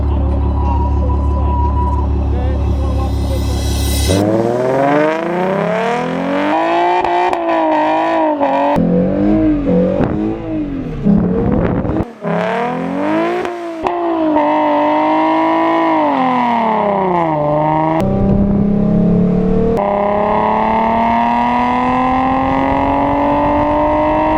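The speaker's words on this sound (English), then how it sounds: "We're gonna do one more big burnout for the boys" A Ford Mustang does a tire burnout, its engine revving hard in long sweeping surges and drops over a harsh roaring rasp, loud and close, sustained across the whole stretch without talk.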